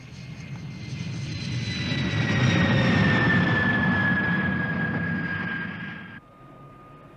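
A Peruvian Air Force Mirage V jet makes a low pass over a runway in 1972, its loud roar swelling and holding with a high whine that drifts down in pitch, then cuts off abruptly.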